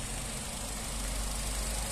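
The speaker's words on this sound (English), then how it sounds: "engine sound nice and smooth" A Nissan Note 1.6 Tekna petrol automatic hatchback idling, recently serviced: a steady, smooth low hum with no breaks or revving, heard close to the engine bay.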